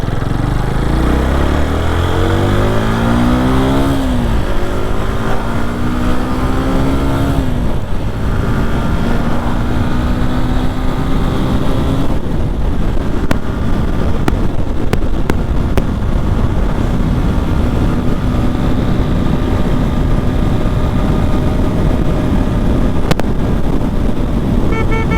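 A vehicle driving at 100 on an empty road: a loud, steady engine drone with rising pitch as it accelerates in the first seconds, then a constant roar of engine and wind through to the end.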